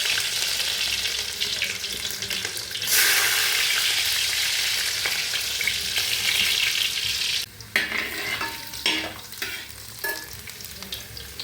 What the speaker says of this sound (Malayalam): കടുക് പൊട്ടിയിട്ടുണ്ട് വെളുത്തുള്ളി അതിലേക്ക് പൊട്ടിയിടുക